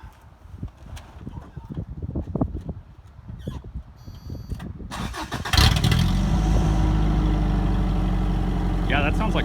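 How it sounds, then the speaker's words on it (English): A 1992 Toyota Pickup with a 22RE engine and the muffler removed cranks amid scattered clatter and voices, then fires at about five and a half seconds into a loud, raw, unmuffled roar that stays constant. "we're gonna start it without any exhaust"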